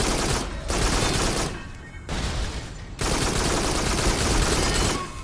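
Loud, continuous bursts of automatic gunfire in the VR shooter Farpoint, broken by a couple of brief lulls before the firing picks straight back up.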